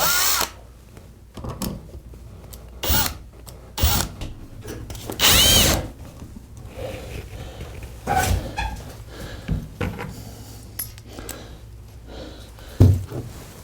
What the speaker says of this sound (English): I'm just gonna drive the screw in.